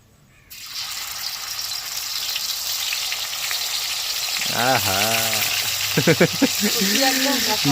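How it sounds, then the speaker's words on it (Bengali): Chicken pieces dropped one by one into hot oil for Afghani chicken, setting off a loud, steady sizzle that swells as more pieces go in, with a voice talking over the frying. "এবার চিকেনগুলোকে ভালো করে ভেজে নিতে হবে এরকম একটা একটা করে ছাড়বো দেখো"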